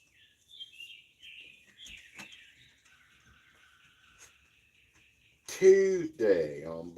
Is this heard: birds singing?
yes